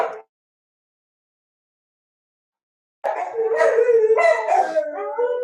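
Dogs howling together indoors, a long wavering chorus of overlapping howls that starts abruptly after a few seconds of silence and stays loud and close.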